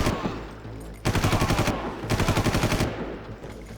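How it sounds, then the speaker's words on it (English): Two rapid bursts of machine gun fire from the video game Far Cry, each about half a second of fast, evenly spaced shots, loud and close, with a quieter gap between them. "Machine gun."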